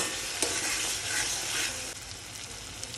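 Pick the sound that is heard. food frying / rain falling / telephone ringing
food frying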